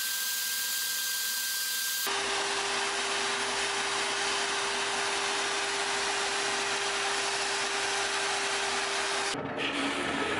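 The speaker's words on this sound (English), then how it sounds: "We're using a 120 grit drum on this oscillating spindle sander" Oscillating spindle sander with a 120 grit drum shaping a multi-layer Kydex sheath, starting abruptly after a quiet hum and running as a loud, steady broadband whir before a change in tone near the end.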